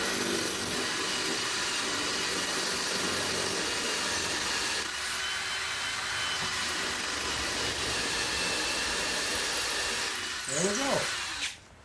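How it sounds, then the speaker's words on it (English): A power drill with a masonry bit bores into brick, a steady whirring grind that runs for several seconds, then winds down and stops near the end, close and fairly quiet. "just drill right into it"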